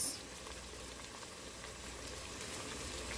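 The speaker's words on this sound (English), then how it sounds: "our onion and garlic is so fragrant and it's cooking down" Onion and garlic frying in a pot for brown stew chicken: a steady, soft sizzle and crackle, close and continuous, with no voices.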